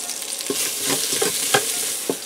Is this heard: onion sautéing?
yes